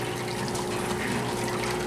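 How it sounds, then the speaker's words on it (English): A parts washer runs with water, giving a steady close churn of pumped liquid with a constant hum, with no other sounds. "Thoughts on your new parts washer here?"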